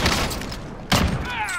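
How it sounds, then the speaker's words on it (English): A single sharp, booming gunshot in a shooter video game cracks out mid-way over a low rumbling backdrop, followed by a faint whistling tail. "Taking shot"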